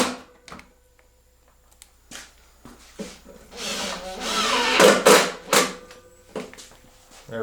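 Several bursts of a power screwdriver whirring and grinding as screws bite into pre-drilled holes in a wooden ramp kit, with short pauses and clicks between them.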